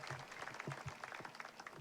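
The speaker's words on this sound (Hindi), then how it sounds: "भजन समाप्त, तालियां बजाइए।" Audience applause at an all-India comic poetry gathering in an open-air ground, a dense, quiet patter of many hands from a distant crowd, with faint voices mixed in.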